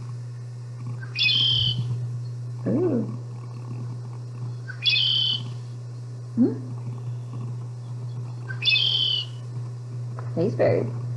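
Red-winged blackbird calls repeat about every four seconds, clear and fairly close, each a short buzzy phrase, with a steady low hum beneath and a brief spoken exclamation.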